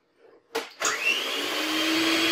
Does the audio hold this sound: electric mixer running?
yes